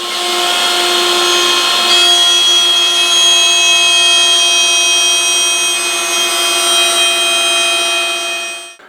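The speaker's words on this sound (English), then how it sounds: "I've got my router bit set up in my router table, and I just need to make a couple passes and get all those grooves cut" A router bit spinning in a router table cuts grooves into wood panels for an end table's case, giving a steady, loud high-pitched whine with a sustained tone and no breaks, alone without talk, until it stops at the end.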